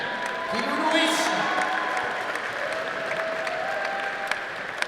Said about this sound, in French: Et les applaudissements du public